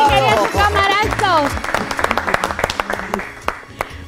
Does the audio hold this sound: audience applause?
yes